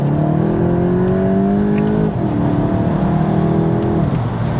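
Volkswagen Golf GTI with the 245HP engine, a steady loud engine drone while driving with rising tones that dip briefly mid-way and climb again, no voices.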